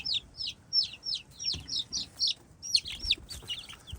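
Newly hatched chicks mingling with a flock of hens let out a rapid run of high, repeated peeps, with soft clucking from the adult chickens low underneath, close and fairly quiet.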